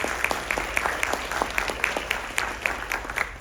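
Steady applause from an audience in a hall after a Carnatic music lecture-demonstration, dense rhythmic clapping sustained throughout at moderate distance with no voices on top.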